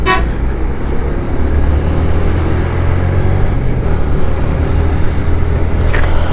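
Heavy road traffic at a crowded bus stop on a foggy winter morning: a dense, steady engine rumble with car horns tooting near and far throughout.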